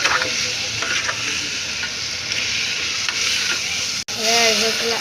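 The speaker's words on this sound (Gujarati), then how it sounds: "મીઠું નાખી પછી મસ્ત રીતે હલાવી દેવાનું આપણે" Potato curry sizzles and fries in a pot as it is stirred after salt goes in, with loud continuous frying hiss and scraping stir strokes, close up, with a brief break near the end.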